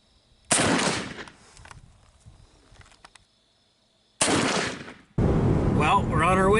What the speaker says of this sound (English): So Ryan's just zeroing the muzzleloader in for him now.